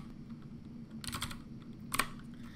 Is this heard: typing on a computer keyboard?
yes